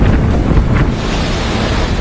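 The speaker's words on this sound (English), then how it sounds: "off in the distance, those waves crashing against the pier." Hurricane Dorian's surf and wind in the Bahamas, waves crashing against a pier with a loud, continuous roar and heavy wind buffeting the microphone.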